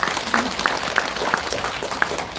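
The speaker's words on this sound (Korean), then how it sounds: "다시 한번 큰 박수 부탁드리겠습니다" Steady applause from a crowd at a political party's founding convention, a dense wash of clapping with a few sharper claps standing out.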